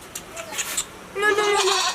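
A goat bleats, first in a few short faint calls, then in a louder, longer wavering bleat near the end, with low background noise and murmured talk.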